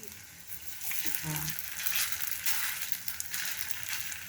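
Maling luncheon meat fries in a pan with a steady, bright crackling sizzle that swells and pops continuously, close and fairly quiet, while a voice speaks briefly underneath.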